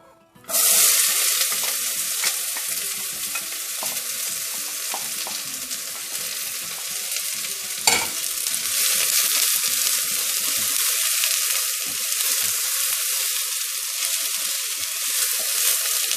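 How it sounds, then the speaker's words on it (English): Steady hissing and crackling of onions sautéing in hot oil for a ground-meat stuffed bitter gourd dish fills the clip, with an occasional clink of a utensil stirring the pan. "We'll saute these onions until they get a little bit like a change of color."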